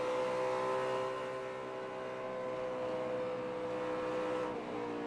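A NASCAR stock car at the Darlington Southern 500 runs with a steady, loud engine drone, a sustained harmonic roar that dips slightly and holds, with no talk over it.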